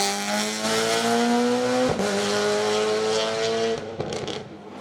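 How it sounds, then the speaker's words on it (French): A highly tuned Citroën Saxo class A2 race car powers up a hill climb course at Vuillafans–Echevannes, its engine screaming loud and close, the pitch climbing then dropping at two sharp gear changes. "Romain Lanterman au volant de sa Citroën Saxo survitaminée qui remporte les débats"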